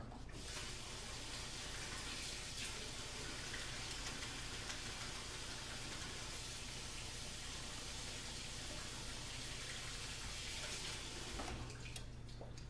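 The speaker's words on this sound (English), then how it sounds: "quickly wash my hands of the pepper stuff before I go any further" Water runs steadily from a kitchen sink tap as hands are rinsed of pepper residue, a continuous close splashing hiss with no talking, shifting slightly near the end.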